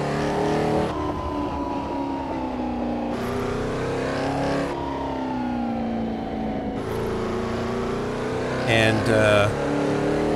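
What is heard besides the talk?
1964 Porsche 904/8 engine driving, from Assetto Corsa video game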